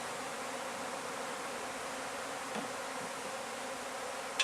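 Honeybees from a caught swarm hum steadily inside a swarm box, a dense continuous buzz close to the microphone, with a brief knock near the end and no voices.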